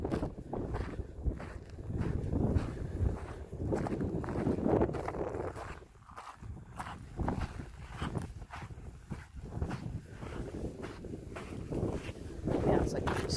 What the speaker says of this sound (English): It's very windy today, so I apologize if there's a lot of wind noise.